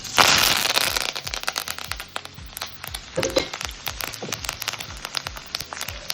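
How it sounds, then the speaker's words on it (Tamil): Mustard seeds, asafoetida and cumin hitting about three tablespoons of hot oil in a pan for a mango rice recipe, giving dense, close crackling and popping that sputters steadily throughout, with no voices. "ஒரு பேனில் ஒரு 3 டேபிள் ஸ்பூன் எண்ணெய் எடுத்துக்கோங்க"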